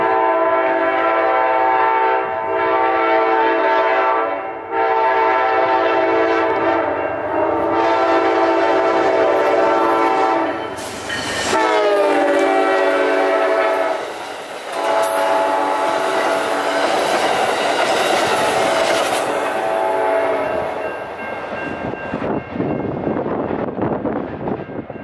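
Amtrak 95 passes heading east in the evening, loud and close, with repeated blasts of its horn over the steady rumble and clatter of the rail cars.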